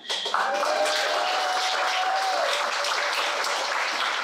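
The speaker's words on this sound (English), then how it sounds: "definite big applause for him" Sustained applause from an audience at an elementary school ribbon cutting, steady and dense from start to finish, with a brief voice or cheer over the clapping near the beginning.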